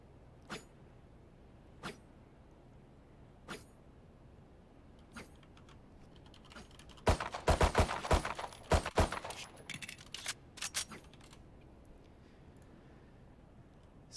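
Gunfire in Valorant, with a few isolated sharp shots spaced out early, then a dense burst of rapid fire and clattering impacts in the middle before tapering back to sparse single shots.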